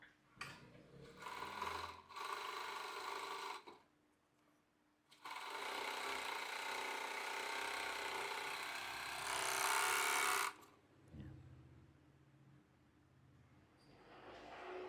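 A Pegasus M-52 four-thread overlock sewing machine runs in short whirring bursts, then one long steady high-speed stitching run of several seconds before winding down, heard close with no talk.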